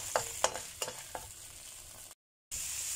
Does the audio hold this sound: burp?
no